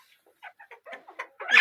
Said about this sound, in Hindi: ये रही हमारी मुर्गियाँ